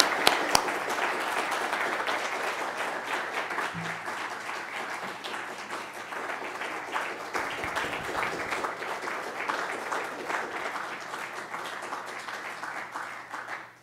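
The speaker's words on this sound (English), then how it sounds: "I think that's the longest sustained applause that we have ever had for a speaker" A lecture audience at a talk on liberal learning and Plato's Meno keeps up a long stretch of sustained applause, steady and fairly distant, with only faint talk underneath.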